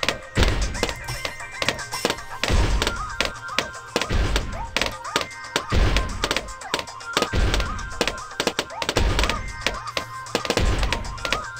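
Mortar explosions in the tower-defense game Bloons TD Battles, a steady run of short, punchy thuds and thumps repeating every second or so over layered game sound effects.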